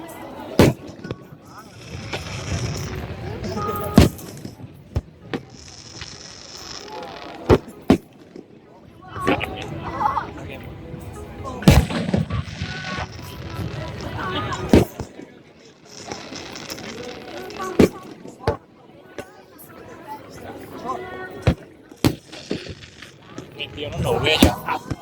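Fireworks burst outdoors in a string of loud, sharp bangs and crackles spread unevenly across the span, with people chatting throughout.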